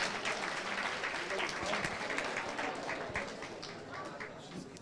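A college event audience at MITS Madanapalle, gathered for a memento presentation, claps steadily and densely at moderate distance throughout, a continuous wash of hands with no single voice standing out.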